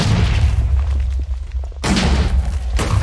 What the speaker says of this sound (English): This one can't fire as rapidly as the other two pistols, but it's more powerful,